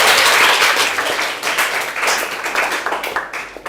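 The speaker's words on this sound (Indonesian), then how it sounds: "Tepuk tangan ya buat Mas Abi." A group applauds after a vocational networking teaching demonstration, dense clapping that starts loud and gradually thins and fades over a few seconds, with no talk.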